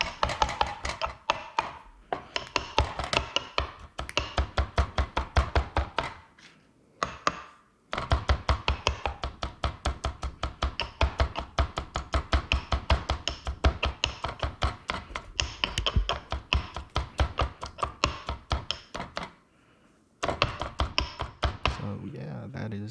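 Marinade ingredients such as garlic, limes, salt and pepper being crushed in a kitchen, heard as a long run of quick, sharp, close knocks in a steady rhythm with brief pauses and a voice talking now and then.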